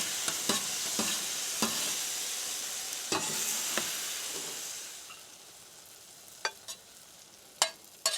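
Brussels sprouts sizzle steadily on a griddle while a spatula stirs them, scraping and clacking in sharp strokes against the hot surface; the sizzle fades softer toward the end with a few scattered clicks.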